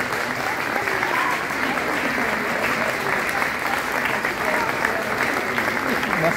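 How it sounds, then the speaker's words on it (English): Sustained applause from an audience at an MRCGP convocation ceremony, steady dense clapping filling the hall throughout without a break. "to give them a round of applause."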